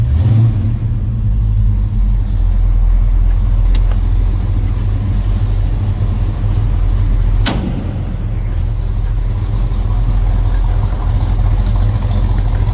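The 440 Six Pack V8 of a 1970 Plymouth Road Runner idles warm with a deep, steady rumble, close by and continuous, with a couple of faint clicks over the low throb.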